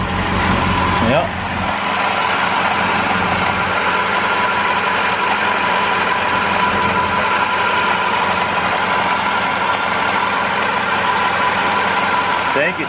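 A 1968 BMW sits up on jack stands after more than ten years without running and idles at its first start. The engine gives a loud, steady, close-up hum with a slight knock throughout, and voices talk over it.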